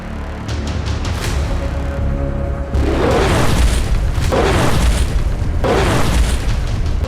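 A hypersonic missile strike explosion sounds as a heavy, loud boom followed by repeated rolling rumbles and bursts, dense low-end roar filling the whole stretch with no voices.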